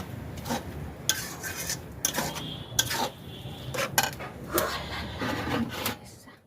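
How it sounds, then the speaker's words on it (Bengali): Grated coconut with cinnamon is stirred in a pan until brown: a spoon scrapes and clatters against the pan in irregular bursts of rasping strokes and light knocks, moderately quiet and close. "এবার নাড়বো যতক্ষণ এরকম বাদামি কালার না হয় ততক্ষণ।"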